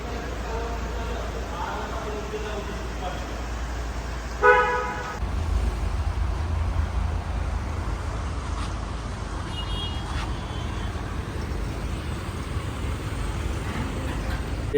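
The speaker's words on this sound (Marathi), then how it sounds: "गाडी आता शोरूम बाहेर काढतोय." A jeep rolls out of a showroom after having new brake pads fitted, giving a single short horn toot partway through over a low engine rumble, with voices in the background.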